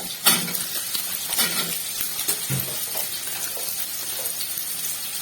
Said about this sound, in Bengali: কড়াতে তেল গরম করে আমি আলুগুলোকে দিয়ে দিলাম। আলুগুলো আমি ভেজে নেব।